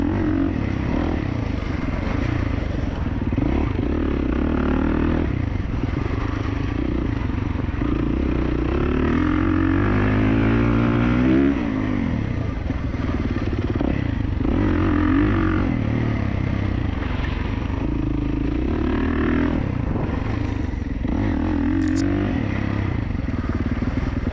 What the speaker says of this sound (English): Remember, I'm still just running a heat cycle, so I can't get too carried away. Trying to get her warmed up.